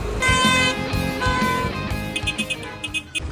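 Loud car horn blasts sound close by in a few sustained honks, followed by quick short toots amid traffic noise.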